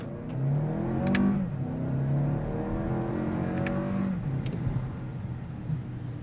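A 2026 Toyota Crown Platinum accelerates hard, its engine note rising and dropping as the transmission shifts quickly, with a steady road whir between the changes.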